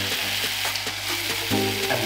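Pine nuts frying in ghee for Lebanese fatteh, a dense, loud, close hiss of sizzling fat with a low steady hum beneath and occasional stirring shifts.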